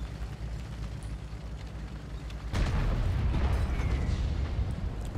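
Indirect artillery fire crashes down in a tank video game, a loud rumbling blast that begins partway through and rolls on as a sustained roar over low background engine noise.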